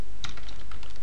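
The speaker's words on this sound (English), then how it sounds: "you can just type find and hit control." A computer keyboard pressed for the Control+Space shortcut in the Eclipse editor, giving a couple of quick, close, sharp key clicks.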